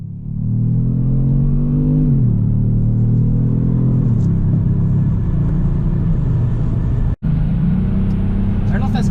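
Low, steady engine rumble from a 2018 Kia Stinger under acceleration, heard from inside the car with the pitch rising and dropping through gear changes, loud and continuous apart from one brief dropout.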